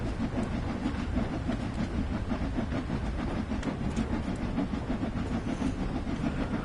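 A simulated train running in Train Sim World 3, a steady rhythmic rumble with a repeating clickety-clack beat and light hiss, continuous and fairly close.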